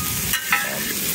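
New York strip steaks sizzling on a two-burner Blue Rhino Razor propane griddle with the heat turned off, a steady close frying hiss broken by a couple of brief louder flares, no talk.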